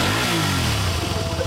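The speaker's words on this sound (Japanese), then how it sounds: "オッケー、エンジン音聞かせてもらえますか？" A Xelvis motorcycle engine revs loudly up close, its pitch sliding and falling through a short burst with no talking.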